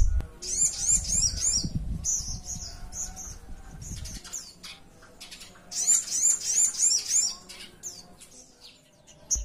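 A small songbird chirps in quick, high bursts, with busy twittering phrases repeating close by and a low rumble in the first few seconds.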